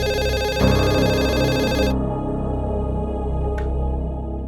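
A telephone rings in an indoor setting, a steady electronic tone that repeats through the whole stretch, loud and alone with no voices over it.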